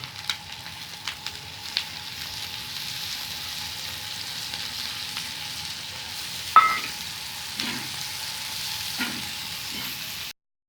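Potato and egg fry on a hot tawa with a steady, close sizzle and crackle. Occasional sharper pops and a scrape of stirring break through the sizzle. No one speaks.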